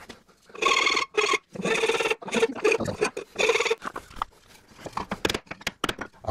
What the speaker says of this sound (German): Da fahre ich einmal mit der Feile drüber.